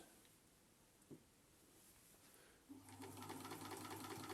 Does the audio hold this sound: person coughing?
no